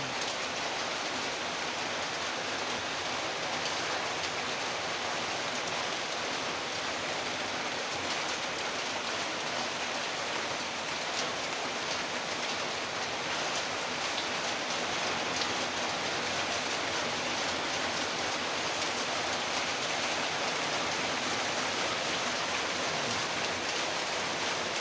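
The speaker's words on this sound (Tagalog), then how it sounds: "Lakas ang ulan." Heavy rain pours steadily, a dense unbroken hiss with no voices, constant in loudness from start to finish.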